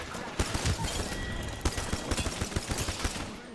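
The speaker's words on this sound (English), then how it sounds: "I'm missing all my shots." Bursts of video game gunfire crackle in quick succession, a dense, loud rattle of shots filling a few seconds with no voices over them.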